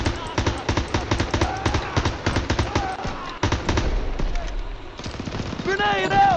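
Rapid, punchy bursts of gunfire from the video game Call of Duty WW2, close and loud in quick rhythmic volleys with brief pauses, while a player talks over the shooting.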